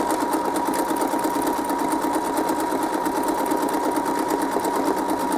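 A sewing machine runs steadily while free-motion zig zag stitching on a quilt, giving a continuous loud mechanical whir and rapid needle chatter close up, with no voice over it.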